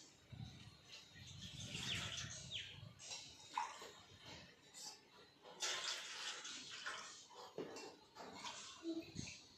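Water is poured from a tumbler into a pot for instant Maggi noodles, giving faint, uneven splashing and gurgling bursts close by.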